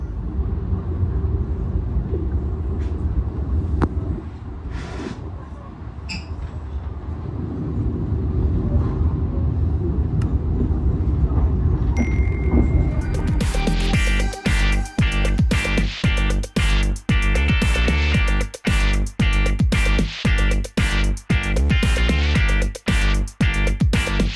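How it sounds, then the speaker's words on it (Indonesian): Riding aboard the Tegal Bahari passenger train, KA 170, bound for Tegal station: a steady low interior rumble gives way to a louder, denser rolling clatter with a rapid, irregular pulse. "di kereta api Tegal Bahari dengan nomor KA 170 yang akan mengantar kita ke tujuan akhir stasiun Tegal"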